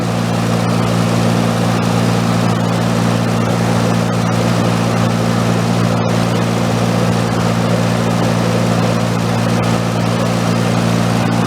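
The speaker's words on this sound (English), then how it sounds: "What I need to do is turn that screw clockwise and increase the RPM of the engine." A P.E. 197 generator engine runs steadily and loud, a constant humming drone with strong low harmonics and a brief click partway through, no talking.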